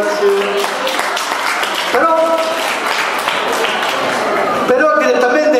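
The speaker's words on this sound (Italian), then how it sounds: "Grazie dell'applauso, grazie." An audience at an outdoor family day event applauds steadily, a continuous wash of clapping under music and a voice speaking over it.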